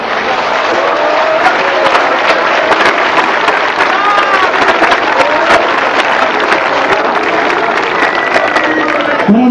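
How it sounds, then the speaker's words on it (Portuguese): A church congregation at a 1996 evangelistic crusade claps in praise, with dense, steady applause and crowd noise filling the whole stretch at loud, even volume. "Aleluia, as palmas louvam o Senhor."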